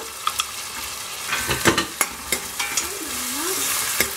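Carrot and green peas fry in a hot tempering for a quick breakfast, making a steady sizzle broken by sharp, close scrapes and taps of a spoon stirring in the pan.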